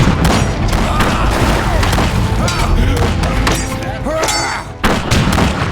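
Gunfire and explosions from a Battle Realms real-time strategy match, rapid overlapping shots, booms and heavy thuds layered loudly and continuously, mixed with short unit voice responses over the clatter of battle.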